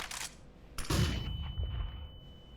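Flashbang grenade detonating in a video game on a new map, a sharp close blast followed by a rumbling decay and a thin high ringing tone that lingers afterward, preceded by a brief burst of noise.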